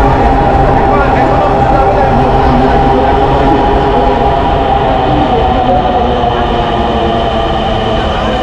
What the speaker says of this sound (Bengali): এখন যে ট্রেনটি দেখতে পাচ্ছি এটি আগারগাঁও থেকে উত্তরা দিয়াবাড়ির উদ্দেশ্যে যাচ্ছে